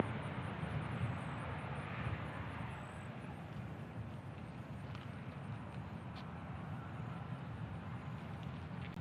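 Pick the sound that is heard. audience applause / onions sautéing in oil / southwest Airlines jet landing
southwest Airlines jet landing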